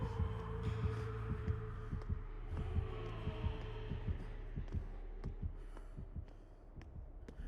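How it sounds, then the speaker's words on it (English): Rhythmic video game heartbeat from a Dead by Daylight-style horror match with Jason, a steady low double thump that repeats over a humming ambient backdrop, fairly close and with no speech. "That's also a heartbeat."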